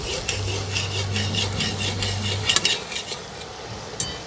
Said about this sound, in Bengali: এইভাবে খুন্তিটা দিয়ে একটু নাড়াতে থাকবে